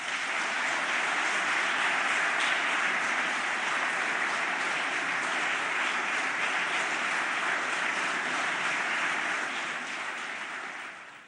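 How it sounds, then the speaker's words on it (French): Sustained applause from a large crowd of elected officials for François Hollande in the grand festival hall of the Paris Hôtel de Ville, dense steady clapping that stays loud throughout and tapers off at the very end. "très applaudi par les élus ultramarins, les élus d'outre-mer"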